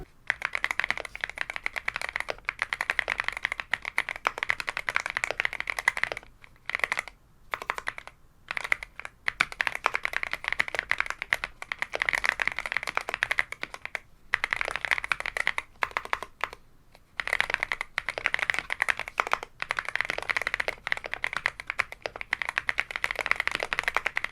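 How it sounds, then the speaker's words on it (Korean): Steady typing on a CIDOO V75 Pro, a hot-swap aluminium wireless mechanical keyboard with Quark Matte switches, shows dense clacking keystrokes running through the clip with a few brief pauses, close and clear with no talk. "자, 일단 간단하게 키보드 연결해서 타건을 진행을 해보도록 하겠습니다."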